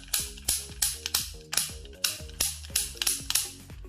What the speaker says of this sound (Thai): เสียงจะคล้ายๆกับ ปืนแก๊ปเหล็กนะฮะ แต่ ถูกกว่า